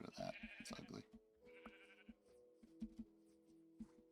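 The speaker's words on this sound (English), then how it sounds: "Hello, sheep." Sheep in the Minecraft video game bleat two or three times, short and wavering, at moderate level near the listener, over faint background game noises with scattered small clicks and no talking.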